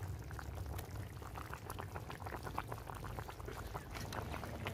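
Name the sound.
fish and eggplant curry boiling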